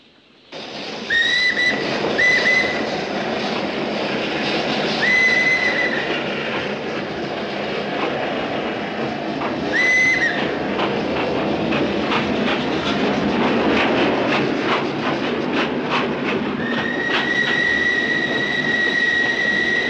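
A train rolls past, loud and steady with rumbling wagons and rhythmic clickety-clack, broken by recurring high whistle or wheel-squeal tones.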